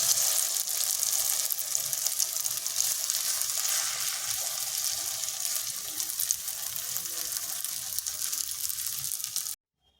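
Egg and flour batter frying in hot oil in a kadai, a loud, steady, close sizzle that runs without a break and then cuts off abruptly at the end.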